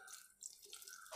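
A quarter glass of water is poured into a steel pot, making a brief, faint splashing trickle in a quiet kitchen.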